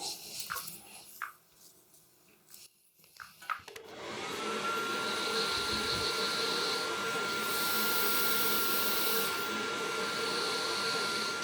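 After a few seconds of quieter handling noise, a hair blow dryer switches on and runs as a loud, steady whooshing roar with a thin whine, drying hair without a break to the end.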